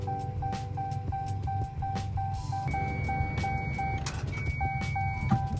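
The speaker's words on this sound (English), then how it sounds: "It sounds like it wants to turn over" A 2018 Dodge Charger Pursuit engine cranks repeatedly without catching, its rhythmic churning rumble running under a steady, repeating electronic warning chime.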